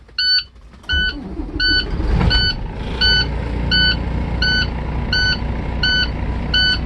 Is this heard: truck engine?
yes